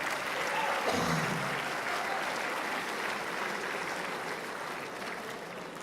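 A live audience gives a sustained round of applause at a motivational talk, steady dense clapping that fills the room for several seconds and slowly thins toward the end.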